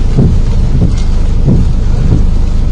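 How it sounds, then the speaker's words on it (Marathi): Heavy rain pours steadily outdoors, a dense continuous wash of noise with low rumbling gusts swelling at intervals, loud and close throughout with no voices. "पाऊस खूप येतोय."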